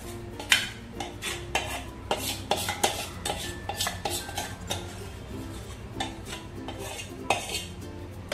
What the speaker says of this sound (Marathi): आता आपण परातीमध्ये आधी रवा घेऊया आणि त्याच्यावरती ही वाटलेली मूग डाळ घालून घ्यायची।